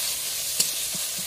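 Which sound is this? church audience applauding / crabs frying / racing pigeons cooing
crabs frying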